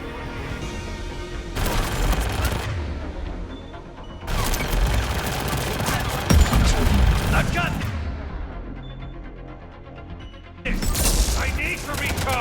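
Heavy gunfire and booming blasts in the Mass Effect Legendary Edition video game, coming in dense bursts separated by short lulls, with game voices shouting over the battle.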